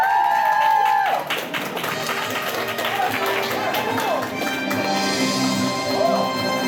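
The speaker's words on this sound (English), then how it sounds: "Give them a round of applause," A crowd at an anime convention game show claps in a round of applause, dense and steady throughout, with murmured voices and some speech-like tones mixed in.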